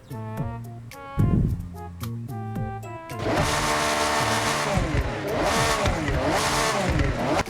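A Lamborghini Revuelto revving in the video game Forza Horizon, starting with rising and falling tonal engine notes, then breaking into a loud, dense, sustained roar of acceleration that continues to the end.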